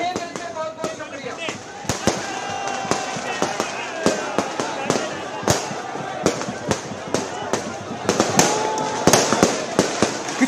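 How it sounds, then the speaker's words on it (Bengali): Fireworks burst in a rapid, irregular string of sharp, loud cracks and bangs at a crowded political celebration outside a jail, with the cheering, chattering crowd heard underneath. "আতশবাজি শব্দ পাওয়া যাচ্ছে।"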